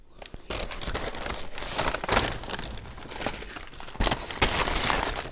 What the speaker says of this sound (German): Muss ich natürlich gleich alles erstmal in eine Tüte machen